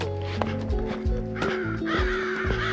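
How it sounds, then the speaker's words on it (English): Large crows or ravens caw repeatedly during an outdoor summer walk, several harsh calls sounding fairly close over a steady background hum. "A murder of crows."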